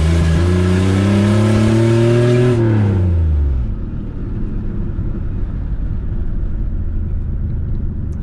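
A straight-piped GMC Sonoma engine held at full throttle roars loud and raw with rising harmonic tones, then drops away into a rough, rumbling idle, with fueling trouble noted.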